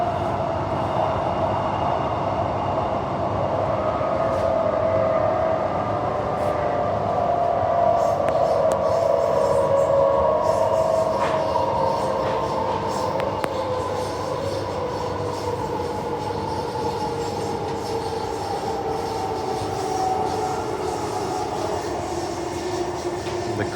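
An Armadale Line passenger train rides an elevated track at night, a steady loud rumble with a drawn-out tonal whine and faint clicking of wheels over joints, continuous throughout.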